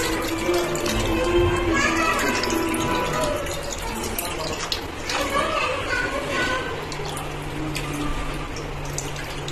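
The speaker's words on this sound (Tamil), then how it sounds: "நம்ம புளி கரைச்சி ஊற்றிடலாம்" Dissolved tamarind water poured into a pan of fish gravy, a loud, continuous liquid rush and splash lasting several seconds, with a voice talking over it.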